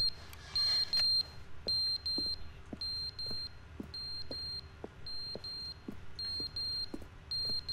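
Smoke alarm in The Stanley Parable game, high shrill electronic beeps repeating in steady bursts over a faint hum, alongside soft regular ticking like a clock.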